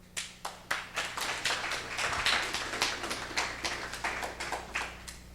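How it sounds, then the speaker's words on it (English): A meetup audience applauds a speaker with a steady burst of clapping from a modest crowd in a room, close and fairly even, with no voices over it. "let's give him a round of applause"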